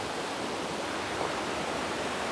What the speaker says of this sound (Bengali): একদম কলকল ধ্বনি কারণ হচ্ছে পাথরের পাথরের উপর দিয়ে পানিগুলো আসতেছে